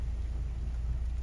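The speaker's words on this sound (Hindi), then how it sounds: "बहुत तेज बारिश आ रही है।" Heavy rain near a dam in a valley, a dense, steady roar of downpour with a deep low rumble, loud and continuous throughout.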